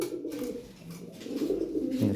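Fancy Lahori pigeons coo in low, rolling throaty calls, one call flowing into the next across the short moment, close by and fairly loud.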